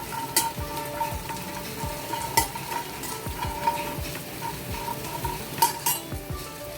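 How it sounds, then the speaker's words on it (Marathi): Fox nuts (makhana) roast with sugar in a pan, stirred with a utensil that scrapes and clinks against the metal in repeated strokes over a soft background sizzle, close and without talk. "साखर मखाणे छान रोस्ट करून घ्यायचे इथे"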